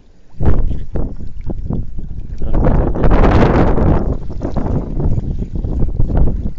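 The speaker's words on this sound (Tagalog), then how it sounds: "Lumakas ang hangin." Strong wind buffets the microphone with heavy low rumbling and gusty roaring, rising into a louder swell midway, alongside a few knocking sounds.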